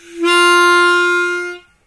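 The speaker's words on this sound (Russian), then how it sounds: "Вот как звучит язычок, отрегулированный подобным образом." A single sustained harmonica reed tone, from a reed set too high, bright and buzzy with rich overtones, held about a second and a half before cutting off, alone and close.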